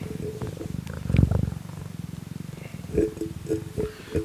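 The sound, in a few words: cat purring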